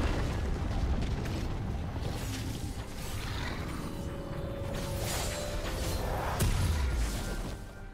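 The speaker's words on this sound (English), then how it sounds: "Red team's turret has been destroyed." A turret being destroyed in League of Legends, heard as a dense rumbling crash and explosive burst with mechanical debris, sustained and loud, with a heavier hit near the end and no talking.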